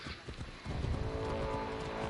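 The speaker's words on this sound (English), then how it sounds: "We're just gonna ride my horse." A horse galloping in the Assassin's Creed Odyssey video game. A few hoof thuds come first, then a dense, loud run of rapid hoofbeats and movement noise takes over and continues to the end.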